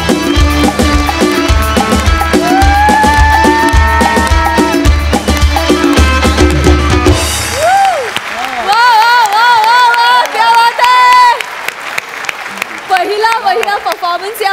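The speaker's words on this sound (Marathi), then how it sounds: "मस्त जोरदार टाळ्या" A studio audience bursts into loud, sustained applause and cheering after a stage performance on a Marathi comedy show, with music and voices overlapping before the clapping thins out.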